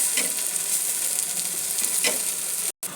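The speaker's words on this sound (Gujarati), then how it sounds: "એકદમ થોડા ક્રિસ્પી થાય ત્યાં સુધી બંને પાવને આવી રીતે શેકી દઈશું" Pav buns toasting in oil in a pan for Gujarati cheesy meesy, a steady soft sizzle with faint scraping stirs, close and continuous, cutting out briefly near the end.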